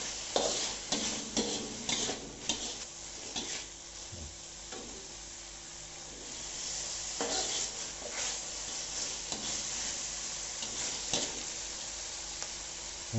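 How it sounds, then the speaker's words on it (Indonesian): Meat simmering in a pan with spices and added water, a steady soft sizzle and bubbling with occasional clicks and stirring knocks of a utensil against the pan. "Sedikit menyusut, kita tunggu sedikit menyusut nih daging."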